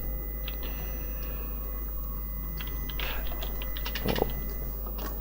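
Computer keyboard keys are pressed during play of Prince of Persia (2008), giving scattered soft clicks over steady hum, with a small cluster of taps near the end; no voices are heard.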